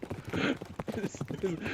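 Horse hooves clip-clopping across a Western frontier town, imitated by players' mouth clicks in a tabletop one-shot game: quick, uneven hoof-like clops mixed with voiced sounds, close and fairly loud.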